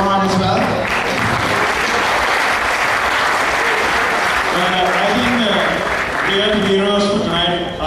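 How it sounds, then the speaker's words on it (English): Loud, sustained applause fills a large audience at a Google I/O Extended tech event in Colombo, Sri Lanka, with cheering voices and talk rising over the clapping toward the end. "a big round of applause for Roman as well."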